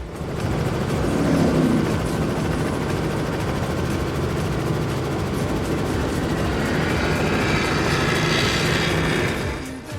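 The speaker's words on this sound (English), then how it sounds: "the helicopter found a nice spot where the wind was just right so they could hover" A helicopter hovering and making high-speed flybys at a poker run powerboat event in Key West: a steady, loud engine roar with churning rotor rumble rising and shifting in pitch as it passes close overhead.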